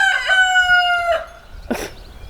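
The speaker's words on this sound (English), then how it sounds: "The chickens." A rooster crows once on a farm, loud and close, its long harmonic call lasting about a second and a half, followed by a brief cluck or squawk from the flock.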